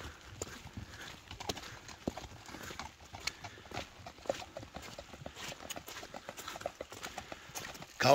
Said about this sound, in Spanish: Los caballos les encanta correr.